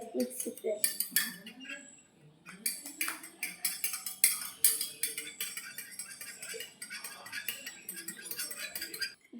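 A spoon stirs vinegar in a container during a kitchen science experiment, giving a run of close metallic clinks and scrapes against the sides, with a voice talking over it.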